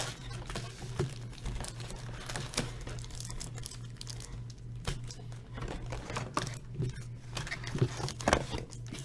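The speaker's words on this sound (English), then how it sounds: "I don't know how to rip packs good or what." Basketball trading card packs being ripped open by hand, a continuous run of crinkling foil tears and card shuffling up close, with a low hum underneath and occasional speech mixed in.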